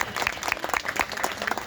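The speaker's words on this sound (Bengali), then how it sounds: "সবাই হাততালি দেবেন" Applause at a village jalsa (religious gathering) in Dhoneswor Pur, a crowd clapping steadily and fairly close for a short stretch as guests are welcomed.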